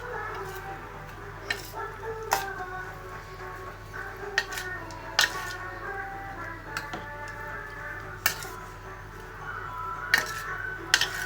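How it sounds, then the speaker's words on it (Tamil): Spoon or ladle scraping and clinking against a metal cooking pot while kolanji is stirred, with irregular sharp clinks and scrapes spread through, moderately close with no talk. "அப்படியே எல்லா பக்கமும் கிளறி விடுங்க"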